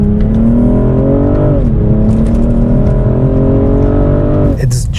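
A 2021 BMW M440i xDrive with its 374 hp engine in sport plus mode, accelerating hard through a gear with a rising drone, a brief dip at the shift, then climbing again, loud and close with no pauses.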